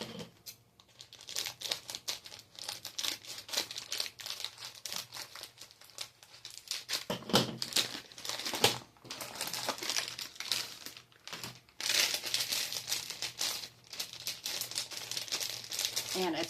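Popin Cookin paper packaging being torn open by hand, a long stretch of crinkling, ripping and crumpling close up, with short pauses between pulls.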